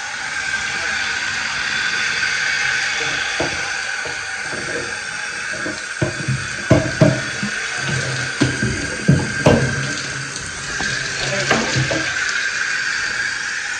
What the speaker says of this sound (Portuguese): Eu só jogar água quente.